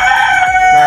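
A rooster crows loudly and close by, one sustained, strained call filling the whole moment.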